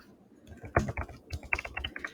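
A password being typed on a computer keyboard: a short burst of close, irregular key clicks, some louder taps among lighter ones, with no talk.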